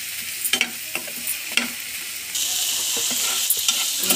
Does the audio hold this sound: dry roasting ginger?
yes